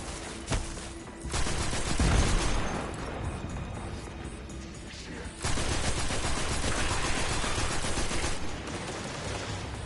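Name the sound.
gunfire from the player's gun in the video game Destiny 2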